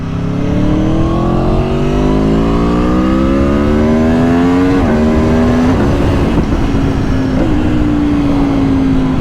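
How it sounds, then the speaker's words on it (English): A loud motorcycle engine revs up steadily through the gears, pitch climbing with brief shifts, close and continuous throughout. "This bike sounds absolutely incredible."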